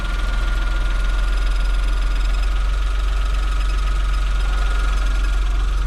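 A car engine idles high with a steady, loud, droning hum and constant low rumble throughout, with no voices over it.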